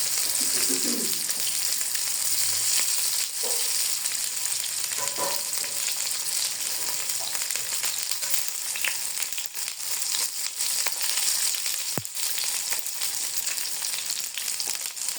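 Spicy potatoes fry in a pan with a steady, close sizzle throughout, broken by a few soft stirring scrapes and occasional clinks.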